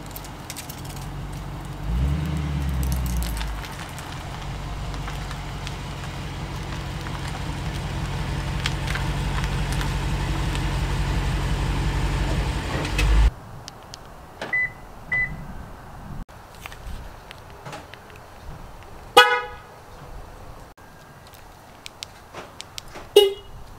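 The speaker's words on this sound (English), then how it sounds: "Let's move this last car back on the driveway" A car is driven back onto a home driveway, its engine a steady low drone that builds gently for about thirteen seconds and then cuts off, leaving quiet outdoor ambience with a few faint beeps.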